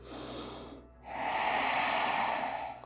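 A deep breath during a yoga session: a soft close inhale, a brief pause, then a longer, fuller airy breath that fades at the end.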